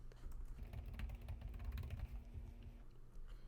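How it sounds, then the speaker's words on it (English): Typing on a computer keyboard, a steady stream of soft, rapid key taps close by under a low background hum, with no talk. "Now I'm going to type in Emmy's Restaurant Survival Kit."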